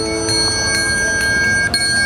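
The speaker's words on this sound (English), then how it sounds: "So then the alarm sounds" Anti-theft wallet alarm ringing close by as a loud, continuous electronic bell-like tone with regular pulsing strikes through the whole stretch and no speech over it.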